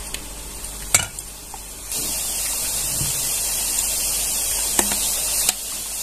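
Boondi batter drips through a perforated lid into hot oil, giving a steady close sizzle of frying with a few sharp clicks and taps of a spoon on metal over it.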